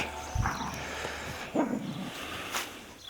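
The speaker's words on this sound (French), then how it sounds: "ce que vous entendez, vous inquiétez pas, c'est les chiens qui jouent." Dogs playing outdoors give a few short barks and yips spaced over a couple of seconds, moderately close, over a low rumbling background and without speech.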